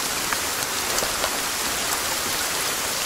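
Steady, dense rain falls in the Sons of the Forest survival game, an unbroken loud hiss with scattered droplet patter and no voices.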